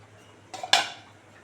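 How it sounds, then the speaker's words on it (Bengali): A metal lid clatters back onto a cooking pot of country chicken, egg and pointed gourd curry, two quick clanks close by in a quiet kitchen with a faint hum beneath. "আবার ঢাকা দিয়ে দিচ্ছি"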